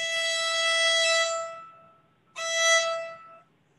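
Two bowed notes on a violin's highest string, bright and sustained, the first long and fading, then a shorter second stroke after a brief pause.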